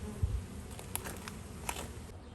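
Honey bees buzz around a backyard hive during orientation flights, a faint, steady hum broken by a few brief passes close to the microphone.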